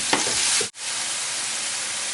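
Chopped onions sautéing in a pan for a lamb brain roast, a steady broadband sizzle with a few stirring scrapes early on, a brief dip, then continuous frying hiss close up with no talk.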